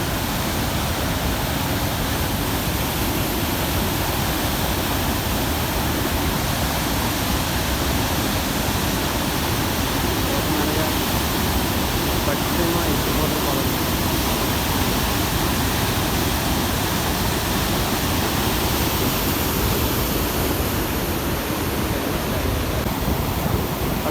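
Fast-flowing Godavari river water at Pattiseema, a loud, unbroken roaring rush of water that stays dense and even throughout, with no voices.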